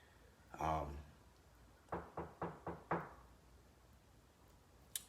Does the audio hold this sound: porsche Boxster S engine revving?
no